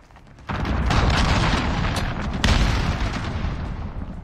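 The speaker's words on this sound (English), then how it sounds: "Allied cruise missile launched." A cruise missile strike in Call of Duty: Modern Warfare lands as a sudden heavy boom, and a second blast follows about two seconds later. A loud rumbling roar carries on between and after the impacts.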